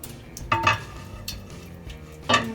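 A young child named Elif stirs birthday cake batter in a bowl, with a few clinks of the utensil against the bowl and soft scraping between them.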